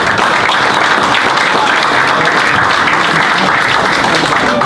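A large audience at a science talk in a hall applauding, loud, dense and sustained clapping throughout, with a faint crowd murmur beneath it.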